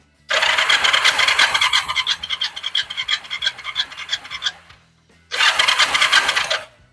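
A Kawasaki Vulcan 500 motorcycle engine held at full throttle during carburetor balancing roars loud and close for about four seconds, drops away, then surges back briefly at full revs.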